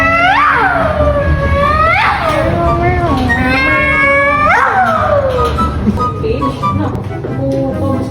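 A cat meows three times, each call rising then falling, spaced a couple of seconds apart, with low background noise.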